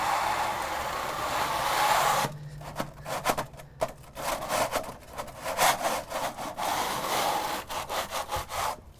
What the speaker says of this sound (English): take the scraper that we're gonna use on the bigger pads and just knock any of these chunks off